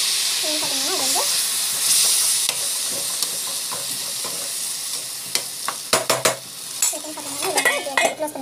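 Food is sautéed in a pan with a steady sizzle beneath, while a spoon scrapes and clinks against the metal in uneven bursts that grow busier toward the end; faint voices drift in the background.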